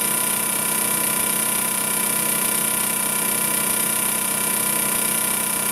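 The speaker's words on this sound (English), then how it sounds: "Plug your T4 in and turn on the blades." A Twister T4 trimmer runs with its blades switched on, giving a steady, continuous motor whine and buzz throughout, close and even in level, with no voices.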